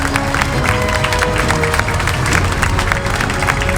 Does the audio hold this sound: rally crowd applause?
yes